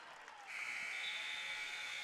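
A basketball game buzzer sounds at the end of the third quarter of a junior varsity girls' game, a loud sustained electronic tone that starts midway and holds steady over gym crowd noise.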